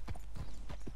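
A black Arabian horse's hooves strike the ground in Red Dead Redemption 2, giving three or four quick, close clip-clops over a faint steady hum.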